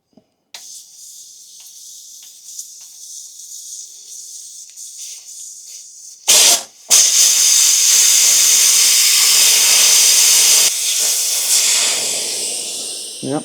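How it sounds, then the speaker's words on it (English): Air hisses steadily out of a tyre as it is deflated with the valve core removed, a loud continuous close-up rush with a brief burst and pause partway through, tapering slightly at the end. "So first of all, let's deflate my tyre."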